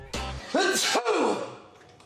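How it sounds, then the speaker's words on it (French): A single loud sneeze up close, preceded by a sharp indrawn breath and followed by a trailing exhale. "il a encore besoin d'éternuer"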